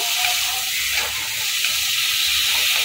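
Kulekhara greens dropped into hot oil with potatoes give a steady, close sizzle and hiss that holds for the whole few seconds, with no voice over it.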